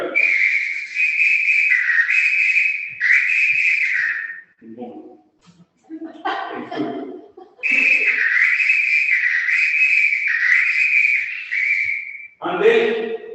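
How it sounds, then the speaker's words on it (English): A handmade pito whistle gives two long, bright, steady blasts, then after a pause with a few short voice sounds it gives a third sustained blast, loud and close, ending in brief talk. "This a whistle, pito in Spanish."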